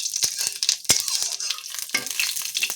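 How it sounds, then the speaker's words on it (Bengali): Cumin seeds fry in hot mustard oil, crackling and spitting in quick, irregular pops over a soft sizzle, close up. "জিরেটা একটু লাল লাল করে ভাজা করে নেব।"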